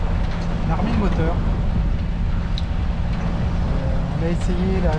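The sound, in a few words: sailboat engine running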